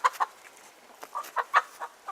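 Guinea fowl and chickens squabble nearby in a flock, with a quick string of sharp clucks and squawks coming in uneven bursts.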